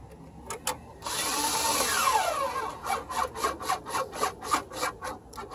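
A cordless power gun fitted with an extension tightens headlight screws on a 2005 Lincoln Town Car. It gives a short whirring run, then a string of quick rhythmic ratcheting rasps, close up and with no talking.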